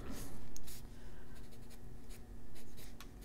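Colored pencil drawing lines on paper for an adult coloring page, a steady close scratchy scribble with short strokes and brief pauses, no talking.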